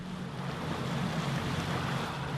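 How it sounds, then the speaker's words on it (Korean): Sharp, cold sea wind blows off the coast of Ilulissat, Greenland, a steady, loud rush of wind noise and surf with a low drone underneath, unbroken and with no voices. "바닷바람이 매섭고 날카롭습니다"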